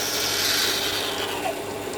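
An old, dull hand reamer is turned by hand, giving a continuous close scraping and rasping grind that stays steady throughout.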